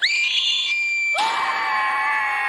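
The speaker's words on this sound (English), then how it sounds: "Yeah, I think I just heard a shark scream." A high, piercing, whistle-like scream that rises quickly and holds steady, then a second brighter, harsher burst cuts in over it and sustains, loud and close, with no talk.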